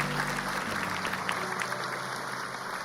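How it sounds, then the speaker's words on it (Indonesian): Audience applause on a television talk show, a dense, continuous patter of many hands clapping at moderate volume throughout. "Tepuk tangan buat mereka."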